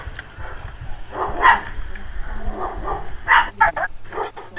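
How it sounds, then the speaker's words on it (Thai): A dog barks in Minecraft, with several sharp yips and barks spaced irregularly over a low background rumble, clustering more densely toward the end. "หมาบ้านใครเห่า"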